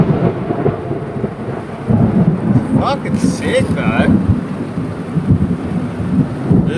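Thunderstorm rumbling outside a camper van parked beside a huge tree, with low rolling thunder and rain hiss running throughout while someone talks over it.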